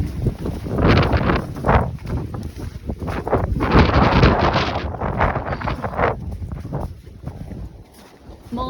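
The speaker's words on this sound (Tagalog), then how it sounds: "gusto ang lamig sa mukha ng hangin." Cold wind after a snow storm buffets the microphone outdoors, loud gusty roaring that swells and fades in uneven bursts, with no talk.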